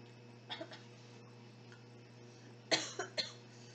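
A couple of short coughs, a soft pair early and a sharper burst of coughing later, against a quiet room with a faint hum.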